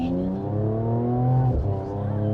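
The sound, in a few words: Mercedes-AMG GT53 inline six twin turbo engine revving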